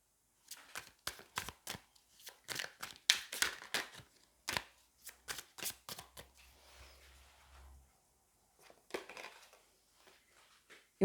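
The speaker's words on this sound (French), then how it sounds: "on va prendre une autre carte" A tarot card is drawn from the deck and handled, giving a run of crisp, close papery flicks and taps in quick bursts, then softer shuffling rustles, with no voices.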